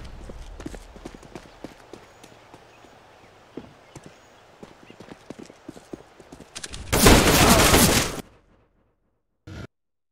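A flashbang grenade goes off in Counter-Strike: Global Offensive after a stretch of quiet clicks and footsteps. It ends in a loud, dense burst of about a second and a half that cuts to silence, with a brief faint blip after.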